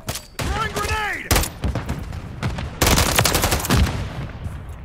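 Gunfire in the video game Modern Warfare 3, rapid bursts and fusillades of loud shots close by, with a rising whine early on and shouted voices mixed into the combat.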